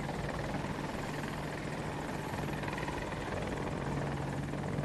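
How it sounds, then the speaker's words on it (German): Attack helicopters flying in a video game, AH-64 Apache type on the Hourglass map, with a steady, continuous rotor drone and engine roar that holds at even loudness throughout, no speech. "Oh, hier kommt alles, zwei Helis."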